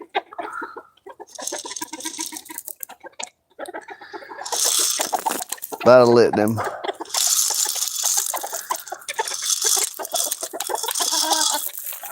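Roosters on a farm clucking and crowing, a loud warbling crow in the middle surrounded by repeated clucks and squawks, with someone talking briefly over them.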